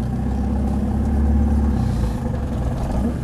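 A Land Rover 90 hardtop with a 200TDi diesel engine pulls away in third gear, its low, labouring rumble steady and close inside the cab with faint clatter, and no talking.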